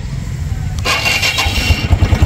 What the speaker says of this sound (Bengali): দেখেন সোয়া দিছি, বাইকটা কিন্তু স্টার্ট হয়ে গেছে।